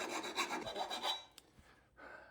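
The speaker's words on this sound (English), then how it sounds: "Just give them a quick little file to make sure there's no sharp edges." Hand file rasping over freshly cut metal tabs on exhaust headers for a Subaru EJ25 engine, a few quick quiet back-and-forth strokes followed by light scrapes, no talking.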